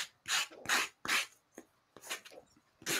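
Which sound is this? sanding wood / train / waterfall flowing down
sanding wood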